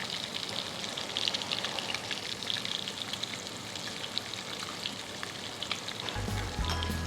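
Pimento fish sizzling and frying in a pan, a steady close crackle and hiss throughout with small popping spatters, no talking.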